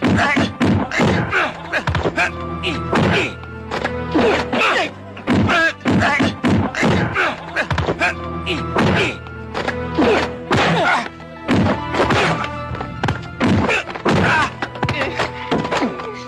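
Blows landing in a fistfight, a rapid, relentless run of loud thuds and whacks at close range, with only brief pauses between the hits.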